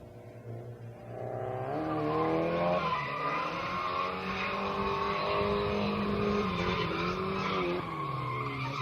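Drift cars slide through a turn in a drift championship final, tires squealing in a long wavering screech over roaring engines, loud and sustained after a brief quieter lead-in.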